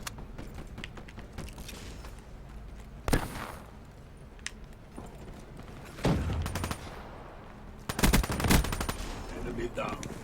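Video game gunfire crackles in short bursts of rapid shots at a few moments over a steady background of game noise.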